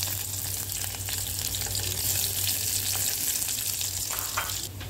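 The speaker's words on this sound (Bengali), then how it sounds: "রসুনটা আর শুকনো মরিচটা গরম তেলে দিয়ে দিলাম।" Garlic and dried red chillies sizzle in hot oil in a wok, a steady, dense frying hiss that runs unbroken and fairly close, with a low constant hum beneath and a few faint stirring ticks.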